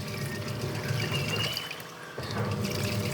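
Tap water pours into a single-tub washing machine, a steady close splashing and trickling that dips briefly before resuming at full strength.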